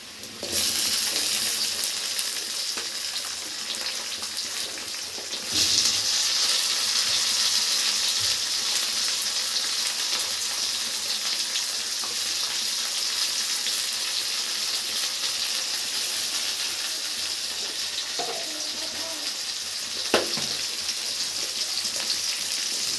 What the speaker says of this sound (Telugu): ఏదైనా వేసుకుంటే టమోటాలు గబాన వేగిపోతాయి